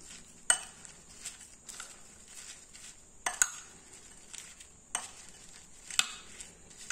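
Fried brinjal salad being stirred and tossed in a bowl, a series of soft scraping mixes punctuated by sharp clinks of a spoon against the bowl edge, quiet and close with no talk.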